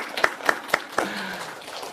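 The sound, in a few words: church congregation applause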